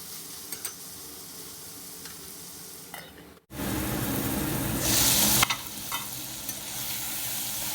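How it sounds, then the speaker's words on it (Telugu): Tomato pieces for gobi pulao dropped into a hot pan, starting with quiet frying, then a sudden loud burst of sizzling as they land and a stretch of vigorous stirring. "ఈ టమాటో ముక్కల్ని కూడా వేసేసుకుని ఒక్కసారి బాగా కలిపి"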